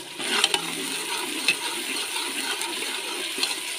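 Ground onions frying in ghee in a pan for siri paye, a steady close hiss and sizzle running throughout with a few faint clicks, no talking.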